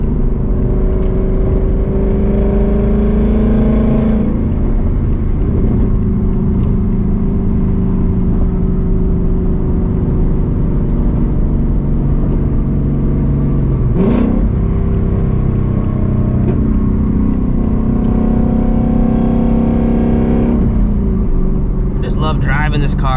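Interior drone of a catless Ford Mustang GT with a manual gearbox driving through city streets, a loud steady engine rumble rising and falling with revs and shifts, with some speech over it.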